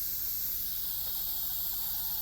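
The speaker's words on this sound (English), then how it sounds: "Just be careful when the steam comes out of there, so you don't burn yourself." An Instant Pot pressure cooker holding corned beef and turnips vents steam through its pressure release valve in a continuous, fairly loud hiss that stays even and unbroken from start to finish.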